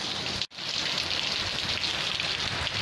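Heavy rain pours steadily during a flood, a dense, continuous hiss of drops on surfaces, close and loud, with a brief dip in the noise near the start.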